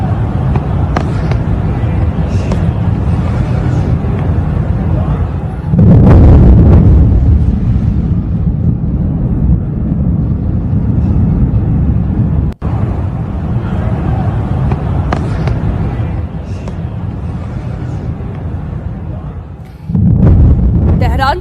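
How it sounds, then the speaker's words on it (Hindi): Explosions from Israeli air strikes on Tehran, Iran, a heavy low rumble with two strong bursts about fourteen seconds apart over continuous broadcast voices. "इजरायली हमले के बाद तेज चमक और धमाके की आवाज भी सुनाई दे रही है।"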